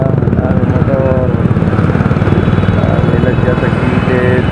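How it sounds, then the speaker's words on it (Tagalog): A motorcycle engine drones steadily while riding along the road, a loud continuous buzzing putter with a person talking over it. "Ay, nakausad naman na maganda-ganda ang motor."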